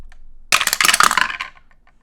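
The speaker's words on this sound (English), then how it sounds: "I'm actually gonna set these dice. Apologies, it's gonna be loud because I have a dice tower." Dice clatter down through a dice tower in a quick burst of hard rattling clicks that starts abruptly, peaks for about a second, then trails off into a few scattered late taps.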